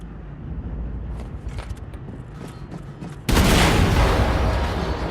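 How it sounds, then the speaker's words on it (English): A tank explodes in Wolfenstein 2: The New Colossus, a sudden loud blast that cuts across a quieter rumbling background and leaves a dense, roaring wash that slowly fades. "Achtung, Explosion in der Hangarbucht."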